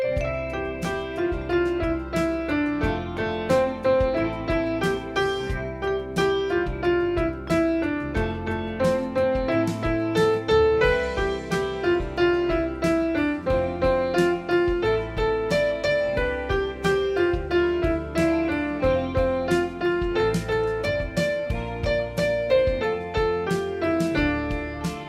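A piece from Twilight played as a steady stream of flowing notes on a keyboard-like instrument, moderately loud and continuous with no voices.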